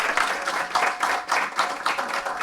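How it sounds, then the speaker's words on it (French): Applause from the audience at a French school mobility ceremony, a moderate, continuous patter of many hands clapping in slightly surging waves over a couple of seconds. "Et ils méritent des applaudissements."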